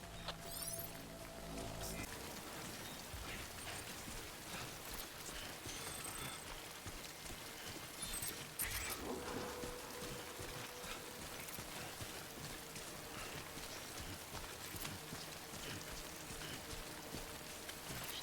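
Steady rain falling in the video game Death Stranding, a constant broadband hiss with scattered drip-like patter, fairly loud and continuous throughout, with brief tonal game sounds near the start and no speech.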